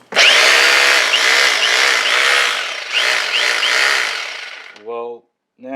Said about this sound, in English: Why not get a full SDS DeWalt demolition hammer? That'll work.